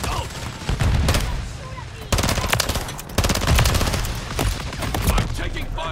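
Rapid automatic gunfire in the Call of Duty: Modern Warfare 3 match on the Shipment map, an MP7 among the weapons: close, loud bursts in several clusters separated by short pauses, with a voice calling out between them.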